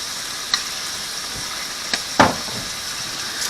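Olive oil sizzles quietly and steadily in a pan while lemon garlic shrimp pasta cooks, with a few soft clicks and a brief stir or clatter partway through. No voices are heard.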